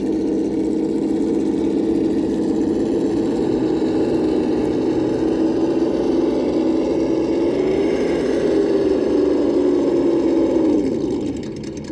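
Traxxas TRX4 High Trail RC truck electric motor whining loudly and steadily in first gear, pitch shifting slightly up and down, close by, easing off briefly at the very end.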